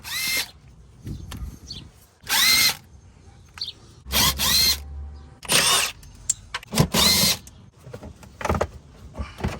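A power drill on a BMW 328i E90 takes out the screws holding a panel near the wheel well. Several short, loud whirring bursts sound close up, with quiet pauses between them.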